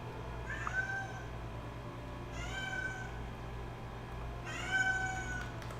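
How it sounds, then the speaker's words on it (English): A domestic cat meows three times at even intervals over a steady low hum, each call clear and drawn out, fairly close but not loud. "I got a noisy cat again today."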